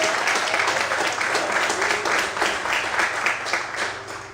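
Steady church congregation applause during a sermon, many hands clapping densely and continuously at full volume throughout, with no gaps.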